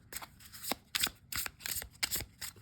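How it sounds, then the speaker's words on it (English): Stiff oracle deck cards being shuffled by hand, several quick riffling bursts close up in a soft, uneven rhythm, quiet and alone. "it's a beautifully produced deck. Really nice, very easy to shuffle"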